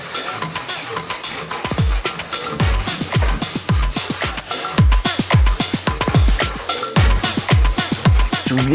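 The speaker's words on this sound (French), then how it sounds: "Je vais venir donc prendre ma scie et séparer les deux roues." A hand saw cuts through frozen ice wheels of an RC car with quick, rhythmic back-and-forth rasping strokes, close and loud, each stroke sharply defined and repeating steadily.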